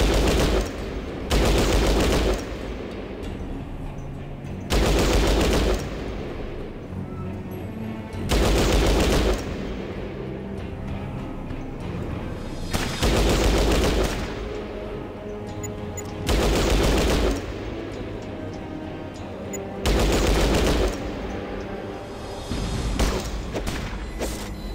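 Bursts of gunfire from the game Fallout Tactics, loud clustered volleys recurring roughly every three to four seconds over a steady background of ambient noise.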